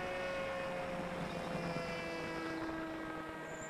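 E-Wings Blackhawk model helicopter on its maiden flight, its steady motor whine and rotor drone holding at half throttle throughout, continuous and moderately distant with a faint pitch shift partway through.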